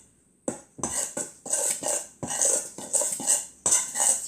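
A spoon stirs and clinks against a bowl of bread mixture with dry yeast, making repeated close scraping and tapping sounds in an irregular rhythm.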